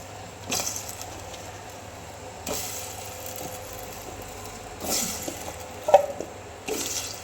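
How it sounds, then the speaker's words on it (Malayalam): Pieces of home-grown tapioca are scooped into a pot of boiling water in several separate batches. Each drop makes a short splash over a low, steady background. "അതിനുശേഷം കപ്പ വാരിയിടുകയാണ്."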